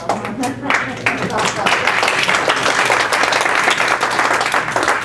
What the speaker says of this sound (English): I'd like to leave it at the applause